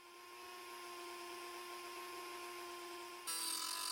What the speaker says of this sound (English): here I'm basically doing that onto a stainless steel ruler